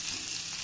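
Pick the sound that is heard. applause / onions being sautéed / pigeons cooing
onions being sautéed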